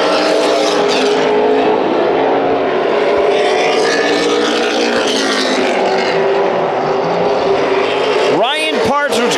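Late model race cars roar around the Bullring oval in a three-car battle for the lead, engines droning loud and steady throughout, with a commentator talking over them and a car ripping past near the end.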